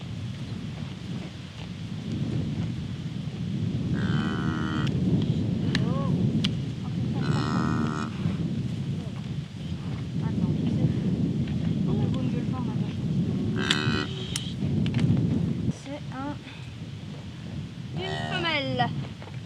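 Cattle on a farm with black sheep and chicks, a cow lowing in several drawn-out calls close to the microphone, over wind buffeting and low rumble, with a person talking in between.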